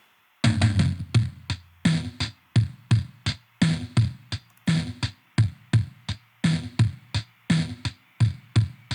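A programmed drum kit loop plays alone, tight punchy kick and snare hits repeating in a steady, even rhythm.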